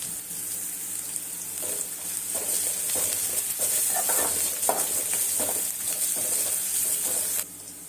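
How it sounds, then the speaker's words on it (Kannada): Crushed garlic frying in a pan gives a steady close sizzle with repeated stirring scrapes, running throughout and cutting off near the end, with no talk. "ಚೆನ್ನಾಗಿ ಫ್ರೈ ಮಾಡ್ಕೊತಾ ಇದ್ದೀನಿ"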